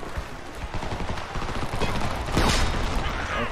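Heavy automatic gunfire rattles in Homefront, a continuous dense fusillade of overlapping bursts with a sharper crack near the middle, steady and loud throughout.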